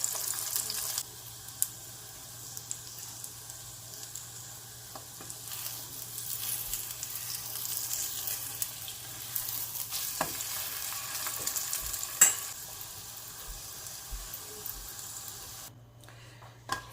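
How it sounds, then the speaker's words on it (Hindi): Egg-dipped bread for French toast fries on medium heat in a pan, giving a soft, steady sizzle that runs for a long stretch with faint clinks and a low hum, then cuts off near the end. "इसको बस ड्रेन करके इसको मीडियम सी हीट पे मैं कुक करूँगी।"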